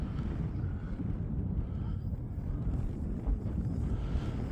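Strong wind buffets the microphone at an outdoor flying field while an E-flite Slow Ultra Stick 1.2m RC plane kites overhead at quarter throttle. A steady, loud low rumble of gusts runs throughout and masks any motor.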